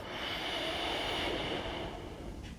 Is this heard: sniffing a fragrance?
yes